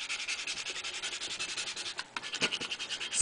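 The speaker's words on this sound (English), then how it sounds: "Scrape that on there so that it sticks really, really well onto my tin or jar" An applicator scrapes a vinyl decal down onto a tin in quick, rhythmic rubbing strokes, close and fairly soft, with a brief pause before the scraping resumes.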